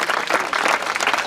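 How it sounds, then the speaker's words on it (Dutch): Crowd applause for a youth fierljeppen (canal pole-vaulting) champion in Drylts, a dense burst of steady clapping heard close and loud throughout. "Jou nog een heel groot applaus"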